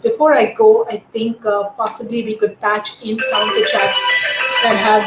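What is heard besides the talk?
phone ringing during a live telecast from home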